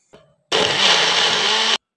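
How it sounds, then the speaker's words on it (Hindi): An electric mixer blender whirs at full speed for just over a second, loud and close, blending green juice with lemon, sugar and water after a brief click. "मिक्सर में ग्रीन जूस रेडी हो गया।"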